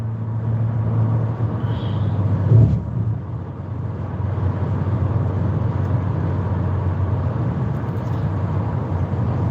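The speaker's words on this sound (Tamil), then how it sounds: "காலையில் கொஞ்சம் டிராஃபிக்காக இருக்கும்" Morning car traffic on a road in Kuwait, heard from inside a moving vehicle as a steady low engine and road rumble. A brief louder whoosh of a vehicle passing close by comes a few seconds in.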